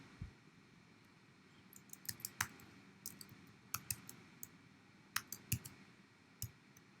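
Sparse, quiet keystrokes on a computer keyboard, a scattering of light clicks in irregular bursts with short pauses between them, close and alone against a faint steady room hiss.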